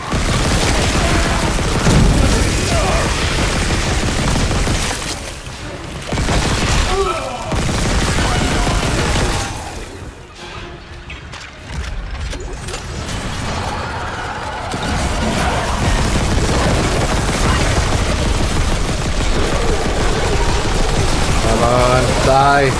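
Weapon fire in the Dead Space Remake, loud repeated bursts and booming blasts over a long stretch, briefly easing before resuming, with a voice speaking throughout.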